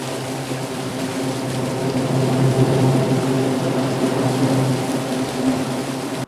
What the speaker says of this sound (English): It's a very interesting drone sound.